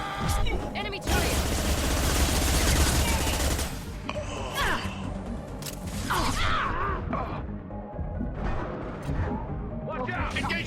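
Enemy turret gunfire in Mass Effect 2 sounds as loud rapid bursts of automatic fire and mechanical clatter, with explosions and whooshing sci-fi effects, broken by short pauses, while voices speak over the combat.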